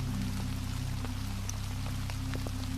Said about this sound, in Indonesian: Hujan turun tiba-tiba, seperti tirai yang dijatuhkan dari langit. Air menghantam daun, mengalir di batang